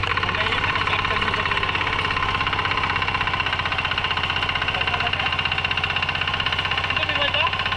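A tractor engine runs steadily in a Konkan rice paddy during transplanting, a continuous mid-pitched idling chug with a knocking rhythm, close and loud, while people talk over it.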